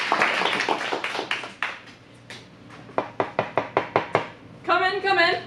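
Scattered claps at an adult improv class in a Phoenix acting studio: a few people clapping in a sharp, evenly spaced run of loud smacks, with speech before and a burst of voices or sound effects at the end.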